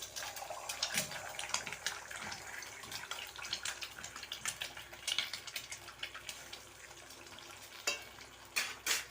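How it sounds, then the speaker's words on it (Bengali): Eggs sizzle and fry in mustard oil in a kadai for a Bengali egg bhujia, with steady crackling spatter and repeated sharp stirring scrapes, close and fairly quiet, with no voices. "ডিমটাকে ফাটিয়ে নেব ডিমের ভুজিয়া তৈরি করে নেব"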